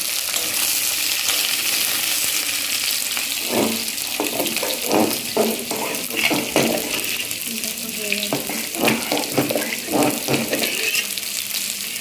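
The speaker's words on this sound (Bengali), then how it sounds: "এদিকে দেখো খিচুড়ি এখন টকবক টকবক করছে" Khichuri bubbles in a cooking pot, a close run of soft irregular pops and plops over a constant hissing simmer, with the popping growing busier partway through.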